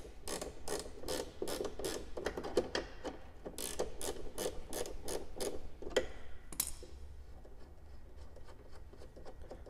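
A bolt is being loosened on a 1990 Chevy Corvette C4 during a battery replacement, with a quick run of close ratchet clicks and scraping metal that stops after a few seconds, leaving quiet shop hum.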